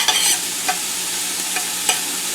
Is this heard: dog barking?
no